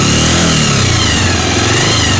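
A Bajaj Pulsar 150 motorcycle engine revs loudly and close, a continuous throbbing roar whose pitch climbs gradually, with no voices.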